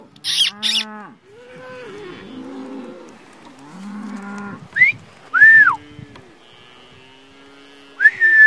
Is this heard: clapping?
no